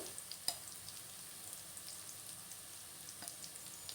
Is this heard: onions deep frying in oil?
yes